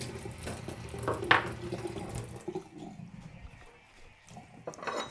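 Water runs from a kitchen tap while cutlery is washed, a steady wash with a brief louder splash early on, then a quieter trickle near the end.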